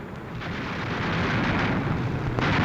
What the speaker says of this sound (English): Watch this explosion.